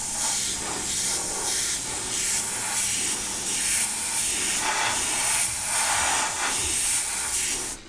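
A steady spray hiss of water-based paint being sprayed on a 1/14 scale RC truck kit runs continuously, pulsing slightly in short bursts against a faint low hum.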